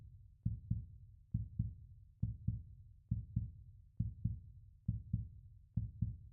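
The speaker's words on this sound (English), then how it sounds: "You guys love my artificial heartbeats." A steady artificial heartbeat thumps in paired lub-dub beats, about eight doubles at an even, slow rhythm, low and muffled, played alone over a quiet background during a live broadcast of a KBO baseball playoff game.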